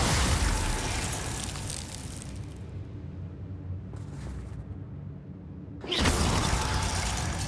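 A Confringo blasting spell cast in Hogwarts Legacy, a loud burst and roar that decays into a low rumble, dips briefly, then erupts again with a second harsh blast near the end.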